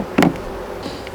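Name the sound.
wasp buzzing near beehive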